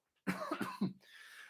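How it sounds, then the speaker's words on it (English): A person coughs several times in a quick cluster, close and fairly loud, followed by a softer breathy exhale. "I'm gonna cough again."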